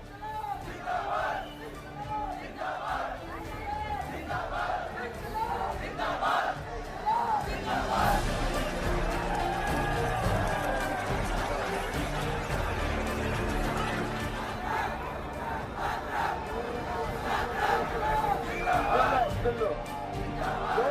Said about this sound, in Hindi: आज जंतर मंतर पर ज्यादा भीड़ थी